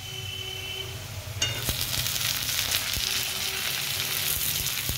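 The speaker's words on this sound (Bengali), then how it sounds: "আর দেখো গোল্ডেন ব্রাউন হয়ে পেঁয়াজটাও ভাজা ভাজা হয়ে এসেছে।" Golden-brown onions sizzle steadily in a pan, with a louder burst of frying partway through as tomato is added, then continued close, even hissing with faint stirring clicks.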